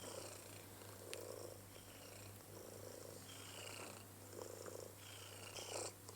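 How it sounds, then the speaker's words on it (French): Cat purring softly and steadily close by, a continuous low rumble with gentle rhythmic swells in a quiet setting; no talk. "Je t'écouterais ronronner."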